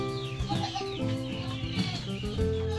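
Native chickens in a rural provincial coop cluck and murmur continuously, several birds close together with overlapping calls and brief louder squawks throughout.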